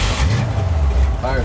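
An old abandoned Ford F100 truck's engine runs with a steady low rumble after starting up for the first time in years, loud and close, while a person talks over it.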